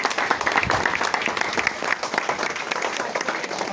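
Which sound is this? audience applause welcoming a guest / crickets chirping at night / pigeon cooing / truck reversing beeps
audience applause welcoming a guest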